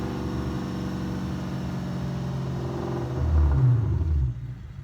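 A 5th-generation Chevrolet Camaro SS with a swapped Ford Coyote V8 rumbles at idle with a throaty exhaust, then revs up into a deep, louder growl before settling back down; no talking.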